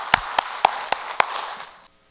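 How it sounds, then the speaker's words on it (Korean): Five sharp, evenly spaced hand claps ring out close and clear in a church congregation welcoming a pastor, then fade into quiet. "박수로 맞이하겠습니다."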